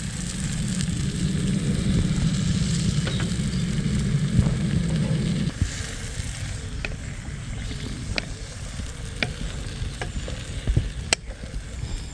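Beaten egg with pepper and salt hits a hot pan at a riverside campsite, a loud sizzle that settles into a quieter steady frying hiss with scattered small clicks and taps, close up and without talk.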